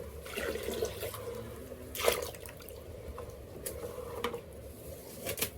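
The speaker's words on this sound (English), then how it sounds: "now I'm going to try to equally pour into each bucket" Whey pours and splashes into buckets in a steady low stream, with a few brief louder splashes and drips, fairly close and without voices.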